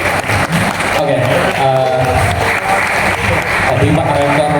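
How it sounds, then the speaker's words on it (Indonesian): Applause from an audience at an anti-corruption event in Purbalingga, loud and dense, mixed with crowd noise and some talk or music underneath throughout. "tepuk tangan"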